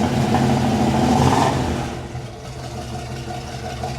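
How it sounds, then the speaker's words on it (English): An old Buick 350 V8 in a K5 Blazer runs close by with a loud, rough, throaty rumble. It swells briefly as if revved, then settles into a steadier, slightly quieter idle. "That thing is tough sounding. So that's the old 350 Buick right there."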